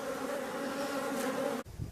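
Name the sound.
honey bees buzzing at a beehive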